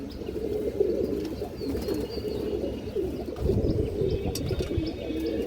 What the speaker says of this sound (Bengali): খুবই সুন্দর একটা কবুতর এগুলো অনেক ভালো ফ্লাই করে